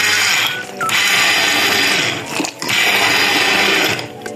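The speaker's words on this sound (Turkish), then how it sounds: "Gördüğünüz gibi şimdi blenderdan geçiriyoruz." An electric blender purees cooked vegetables for a Turkish vermicelli soup, whirring loudly and steadily with two brief dips in pitch as the load shifts, close and alone without talk.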